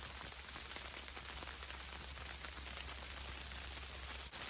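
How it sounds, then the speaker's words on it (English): Rain or sleet pours steadily onto a hammock hot tent during a snowstorm, a dense, even hiss of drops close overhead with no gaps, holding at a constant low level throughout. "Now it sounds like it's raining or sleeting."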